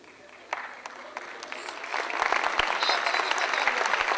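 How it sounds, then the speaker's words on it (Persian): Applause from a comedy show audience starts sparse and builds into louder, denser clapping, with some voices under it. "چرا تشویق میکنید؟"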